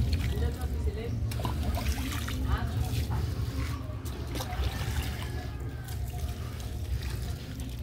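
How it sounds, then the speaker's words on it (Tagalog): River water splashes and trickles steadily onto vegetable shoots over a low background hum, with a voice speaking intermittently nearby. "diligan natin ang tubig galing sa ilog"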